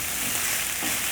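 Beef liver sizzles loudly in a hot pan, an even, close hiss with no break over the short moment.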